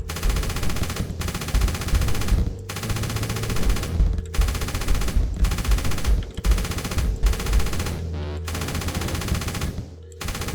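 Rapid gunfire from the MF-01 Aerostrike video game's shooting range, dense bursts of automatic fire with brief pauses between volleys, loud and continuous over game background sound.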